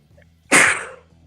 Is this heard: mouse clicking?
no